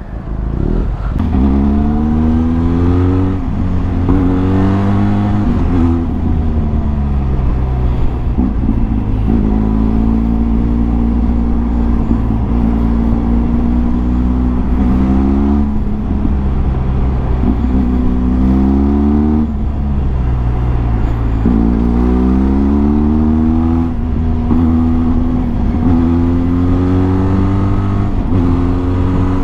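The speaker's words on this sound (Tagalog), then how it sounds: "tunog ng pipe pag high rev" A Benelli TRK502X motorcycle fitted with a slip-on exhaust canister and a catalytic converter delete rumbles loudly and close in traffic, its exhaust note repeatedly rising and falling through a series of rev swells over a constant low growl.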